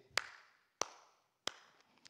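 Three sharp hand claps spaced about two-thirds of a second apart, each ringing briefly in a room, demonstrating applause with no talking.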